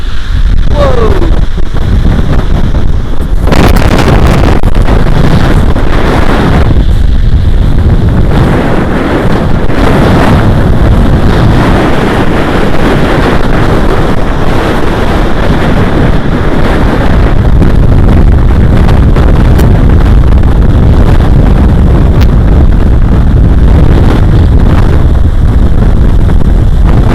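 Big waves crash against a seawall in strong, gusting wind, a loud, continuous roar of surf and wind buffeting the microphone, with no speech over it.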